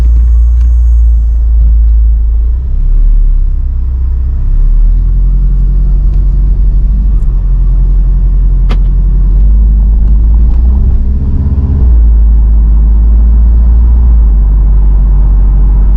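A Volkswagen Golf 7R with 310 hp drives along, its engine and road noise forming a loud, constant low rumble from inside the cabin, swelling slightly as it pulls.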